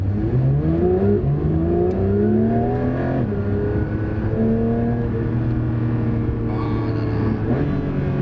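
A Porsche 992 GT3 engine accelerates hard through the gears, its rising wail dropping back sharply at each upshift, loud, close and steady, with no talking over it.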